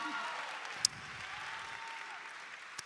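Faint, distant applause from a panel audience at New York Comic Con rustles steadily for a few seconds, with a single sharp click partway through.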